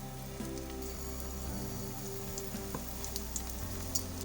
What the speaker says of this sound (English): we will brown the slices of bread.